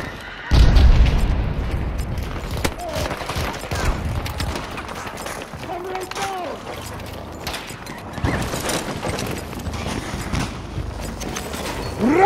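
Grenade blasts and gunfire in a Battlefield video game: a heavy booming explosion up front, followed by scattered shots, thuds and rumbling combat noise over the rest of the stretch.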